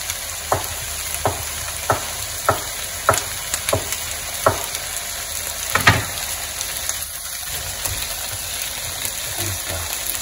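Four small sausages frying in a pan, a steady close sizzle under evenly spaced soft taps and stirring knocks, with a brief louder scrape partway through.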